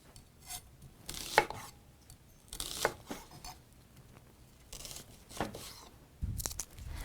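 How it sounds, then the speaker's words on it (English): A knife cuts through red onion at an angle on a board, giving several separate crisp chops and tearing slices in an irregular rhythm, close and moderately loud with quiet gaps between cuts and no talk. "I am going to cut this at an angle"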